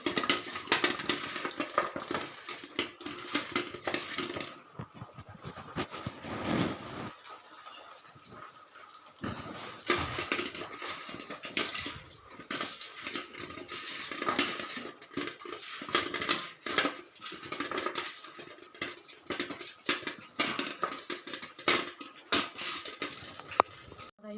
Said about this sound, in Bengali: দিয়ে দেবো হলুদ ভালো করে কচুগুলোকে মেখে নেবো